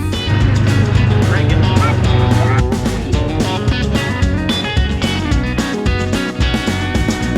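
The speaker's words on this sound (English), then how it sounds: "We're gonna go go to Grandma's house driving the Ranger" A Ranger utility vehicle driving, its engine a steady loud rumble with rattling and shifting tones, close by, with voices talking over it throughout.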